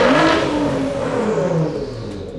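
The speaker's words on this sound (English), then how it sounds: "if we like try to rev it right now, that's what we get" Nissan GT-R engine with a 4-inch titanium exhaust, revving loudly and close up, a single sustained rev whose pitch climbs and then falls away as the throttle is released.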